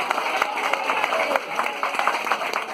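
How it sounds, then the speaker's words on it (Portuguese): A church congregation at a baptism service applauds for Jesus, a dense, continuous crowd clapping with scattered louder claps and voices mixed in. "Vamos dar um aplauso para Jesus por causa disso."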